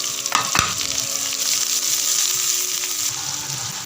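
Onions frying in a pan for a chicken stuffing roll filling, a loud, steady sizzle with a few scraping stirs near the start, no voices.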